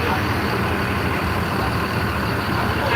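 A Rosalia Indah Jetbus 5 bus engine runs with a steady, dense drone that holds constant throughout, with faint voices in the background.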